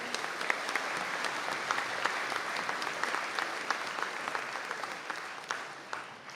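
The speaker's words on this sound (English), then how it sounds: "And if we could give them a round of applause, please." Sustained audience applause at a college conferring ceremony, honouring graduates in Donegal: steady dense clapping from a seated crowd, even and continuous throughout with a few sharper nearby claps standing out.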